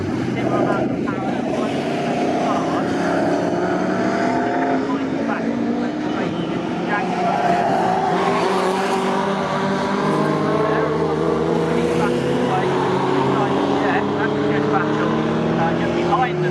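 Pre-1983 Group 1 and pre-1966 touring cars race at Snetterton, their engines making a loud, continuous roar that rises and falls in pitch as the cars pass, with a commentator talking over it.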